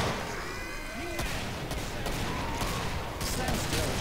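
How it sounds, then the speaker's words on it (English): Video game gunfire from Killing Floor 2, a dense chaotic barrage of overlapping shots and bursts running continuously at steady loudness, with no pauses. "Just chaos with people shooting bullets everywhere"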